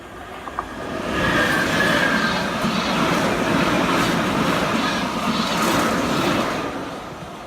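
A London Underground train rumbles past nearby on the tracks, a loud sustained roar with rattling wheels that swells and holds, with a faint squeal early on.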